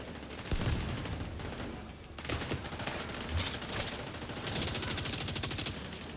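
Automatic gunfire in the video game The Division 2, sustained rattling bursts of rapid shots over busy game noise, loud and continuous across the clip.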